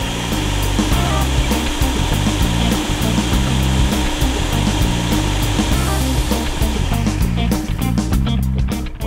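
A food processor purees graham cracker crumbs with sugar and melted butter, a loud continuous whirring motor with rapid rhythmic chopping pulses that runs unbroken and then trails off at the end.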